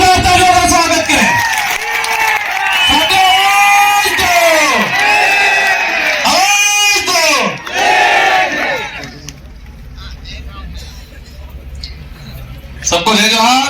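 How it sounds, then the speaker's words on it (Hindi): A large crowd at an election rally for a Lok Sabha candidate in Banswara-Dungarpur roars with loud shouted cheers and chanting voices, then drops briefly before surging again. "जोरदार तालियों का स्वागत करें।"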